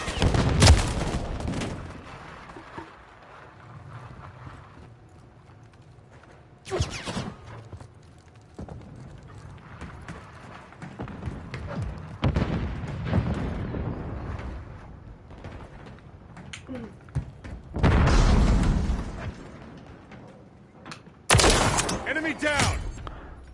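Grenade blasts and gunfire in Call of Duty: Modern Warfare 3, with several loud, sharp bursts spread across the stretch and heavy ones near the end, over a low rumbling game backdrop.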